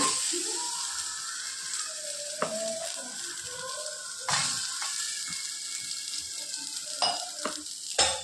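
Ginger and garlic frying in a pan, a steady close sizzle with occasional clinks and stirring scrapes of a utensil, heard alone without talk.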